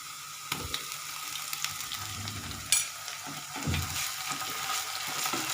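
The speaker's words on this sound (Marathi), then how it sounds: "सोनेरी रंग येईपर्यंत आपण हा कांदा छान परतून घेणार आहोत." Onion browned in a pan sizzles loudly with ginger garlic paste added, for a Maharashtrian mutton dish, with stirring clatter and spatula scrapes over a constant frying hiss.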